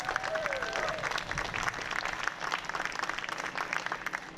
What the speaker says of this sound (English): how about a round of applause for Ron and Jan Neese for their help.